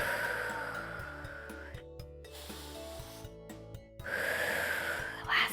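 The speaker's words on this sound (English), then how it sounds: "Take 3 big breaths here." Slow, deep breaths from a kids yoga session: long, airy inhales and exhales in two broad swells over soft, steady background music, with no talking.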